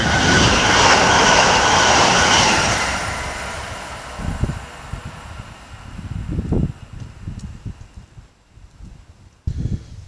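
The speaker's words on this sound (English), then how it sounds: "the next one to pass by is going to be Heathrow Express from Heathrow Terminal 5 to London Paddington" A Heathrow Express train running from Heathrow Terminal 5 to London Paddington rushes past loudly for about three seconds, then fades, leaving intermittent rail clatter and thumps until a sharp bang near the end.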